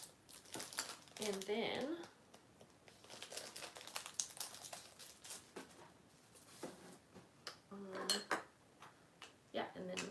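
A sticker sheet is put away with soft crinkling paper rustles, light taps and handling clicks near the microphone, with brief quiet talk in between.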